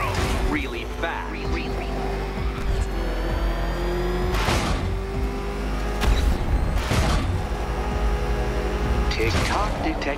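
The Batmobile's engine roars and revs through a race in Batman Arkham Knight, a loud continuous drone with periodic booming surges and mechanical clatter, under a game soundtrack.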